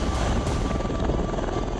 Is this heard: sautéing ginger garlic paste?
no